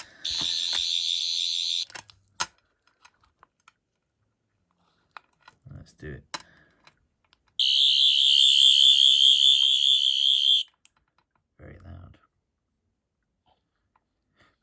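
A toy sonic screwdriver's electronic warbling tone buzzes in two bursts of a few seconds each, separated by clicks, handling noise and a brief spoken phrase.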